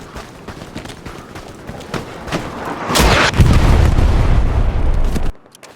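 Artillery fire in the Hell Let Loose video game on the El Alamein desert map: a building rumble of distant booms swells into a heavy, sustained barrage, then cuts off abruptly.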